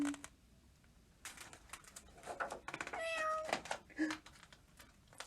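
A cat meows in a few short, close calls separated by quiet gaps, with some light rustling between them.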